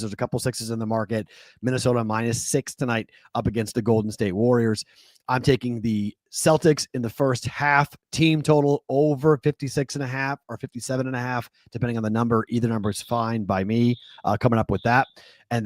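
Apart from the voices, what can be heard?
No everyday noises stand out.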